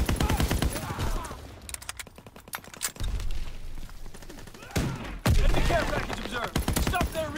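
Many players shoot guns at once in a wartime shooter game: dense, overlapping volleys of rapid gunfire, near and far, with a voice talking over the chaos.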